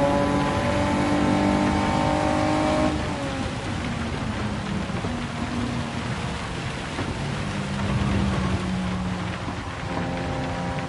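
Rain falls on the track in the racing game Gran Turismo 7 while a car engine drones beneath it. A dense, steady hiss of rain runs throughout, and the engine tone shifts as the car changes gear.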